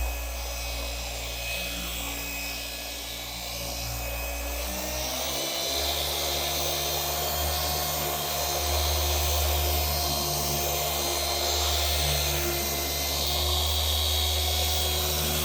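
A car polishing machine working Final Cut compound into paint with a flat pad, a steady close whirring drone with a low hum that stays even throughout, no talk.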